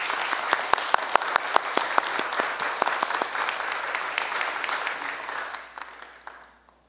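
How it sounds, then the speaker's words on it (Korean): Applause from a church congregation at a Wednesday worship service in Korea, welcoming a guest professor to the front. Dense clapping with sharp individual claps rises quickly, holds steady for several seconds, then thins and fades out. "우리 김혜정 교수님 나오실 때에 우리 큰 박수로 환영해 주시기 바랍니다"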